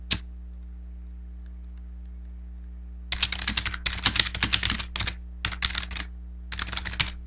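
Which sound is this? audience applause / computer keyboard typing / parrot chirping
computer keyboard typing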